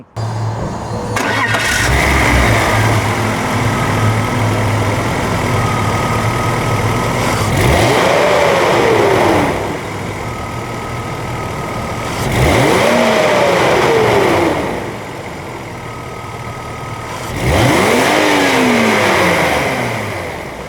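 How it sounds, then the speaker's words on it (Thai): A BMW 330i E46 engine cranks and catches, then idles and is revved hard three times, each rev rising and falling sharply, loud and close. "มาฟังเสียงเครื่องยนต์กัน"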